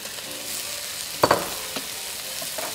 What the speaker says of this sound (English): I'm going to add in my carrots and mushrooms